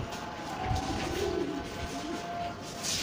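A pigeon coos softly and repeatedly at close range, its low warbling calls rising and falling over a steady background hum.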